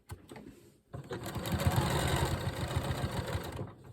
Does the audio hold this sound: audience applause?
no